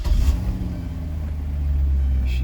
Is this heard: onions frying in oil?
no